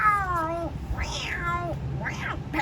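A cat meows several times in a row, drawn-out rising and falling cries close up over faint background noise, in a children's story setting.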